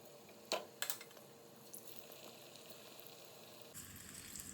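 Bhaji fritters coated in gram flour batter seasoned with turmeric and chili powder fry in hot oil, giving a faint, steady hiss with a few soft pops and crackles early on.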